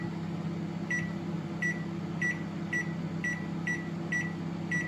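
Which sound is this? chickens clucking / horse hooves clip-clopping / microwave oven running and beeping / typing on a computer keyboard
microwave oven running and beeping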